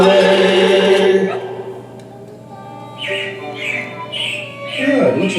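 Animated robin chirps as a sound effect in a Disney animatronic stage show, several short bright tweets repeating in a quick series after a fading musical passage and low hum.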